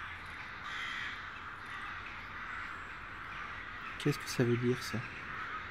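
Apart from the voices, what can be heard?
crows cawing in video game Stalker Anomaly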